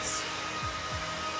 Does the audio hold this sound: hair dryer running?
yes